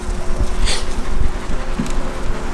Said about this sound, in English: And all these are worker bees.